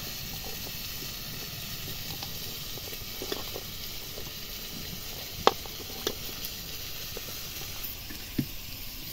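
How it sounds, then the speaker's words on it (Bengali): Potato pieces frying in a pan of hot oil for a chicken dish, a steady broadband sizzle throughout with a few sharp pops and crackles standing out, no talking. "আলুগুলো ভালোভাবে লাল লাল করে ভেজে নিয়েছি"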